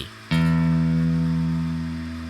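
A single low E guitar string is plucked once and rings out, sustaining with a rich, buzzy tone that slowly fades.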